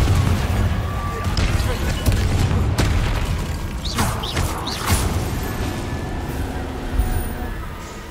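Spell explosions from Bombarda and Confringo in the wizarding game Hogwarts Legacy: several heavy booms and sharp bursts scattered across a loud, dense rumbling battle soundscape.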